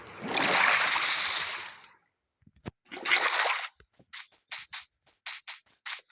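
Minecraft water splashes in two long bursts, then a quick run of short, evenly spaced splashy clicks, close and clear with silent gaps between.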